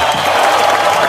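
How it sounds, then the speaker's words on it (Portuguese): A crowd gives a round of applause at a presentation of commentators for a Winning Eleven 2002 Copa América 1989 session, a dense, loud wash of clapping with faint crowd noise. "uma salva de palmas para"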